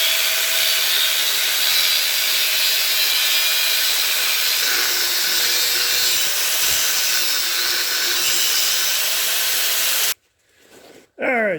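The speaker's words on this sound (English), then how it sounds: "I'll be taking a grinder with a cutting wheel and cutting it right through here." An angle grinder fitted with a cutting wheel slices through a steel brake rotor, producing a loud, sustained high-pitched whine and hiss that cuts off abruptly near the end, then briefly resumes.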